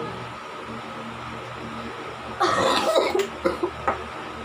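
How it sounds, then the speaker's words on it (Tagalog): A woman coughs close by: a harsh burst after a quiet stretch, then a few shorter coughs trailing off. "Medyo ako yun yung ubo guys."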